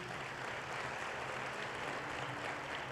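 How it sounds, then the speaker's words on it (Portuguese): A church congregation applauding during an evening service, a steady, even wash of many hands clapping throughout, heard alone without talk. "Você pode aplaudir o Senhor Jesus?"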